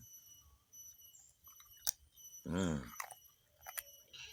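Crunchy soybean and peanut rempeyek crackers are chewed close up, with sharp crisp bites and crackles between quieter gaps, plus a brief voiced sound in the middle.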